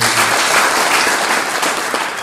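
A rally crowd applauds a speaker with loud, sustained clapping that stays at an even, dense level throughout, with no voices standing out.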